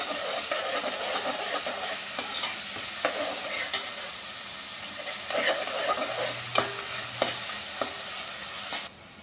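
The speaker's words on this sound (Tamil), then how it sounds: "இப்போ நம்ம எல்லாத்தையும் ஒன் பை ஒன் ஃப்ரை பண்ணிக்கலாம்" Ginger garlic paste, chilli powder, soy sauce and garam masala fry in a pan, a steady close sizzle and hiss punctuated by spatula scrapes and knocks at irregular intervals, ending abruptly.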